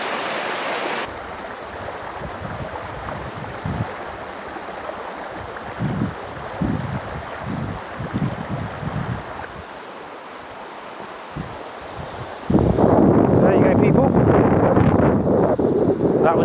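Rushing water at the Water-break-its-neck waterfall in Mid Wales, a steady broadband roar with gusts of wind buffeting the microphone. It grows suddenly much louder and closer near the end.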